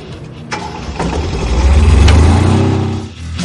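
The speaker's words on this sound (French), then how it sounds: "Kubota, une vaste gamme de génératrices à moteur diesel de 7 à 21 kW." A Kubota diesel generator engine cranks and catches, rising into a loud, steady low rumble that swells toward the middle and eases slightly near the end, heard alone without voices.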